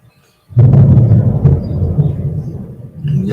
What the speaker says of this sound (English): Lightning, thunder.